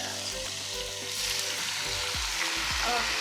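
Marinated chicken thighs dropped into a hot pot on top of pumpkin pieces, sizzling and frying steadily, with stirring and scraping clunks against the pot growing louder toward the end.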